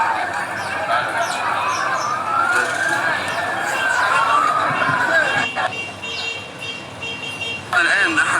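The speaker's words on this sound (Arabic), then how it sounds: "كما نرى سيارات الإسعاف تهرع إلى المكان لنقل المصابين." Ambulance sirens rushing to a train crash scene in Sohag, Egypt, wail in overlapping rising and falling sweeps amid a noisy crowd, with voices talking throughout and the siren tones fading in the second half.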